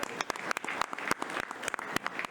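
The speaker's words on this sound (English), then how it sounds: "How about a nice round of applause?" Applause from a crowd at a high school football broadcast honoring a district title win, a fairly faint, continuous patter of many hands with sharper individual claps popping out over about two seconds.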